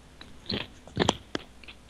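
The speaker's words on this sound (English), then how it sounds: "Yeah, I can hear you crunching" Potato chips being bitten and chewed close to a microphone during an online gaming chat, a few sharp crunches in quick succession over a faint steady background hum, no speech.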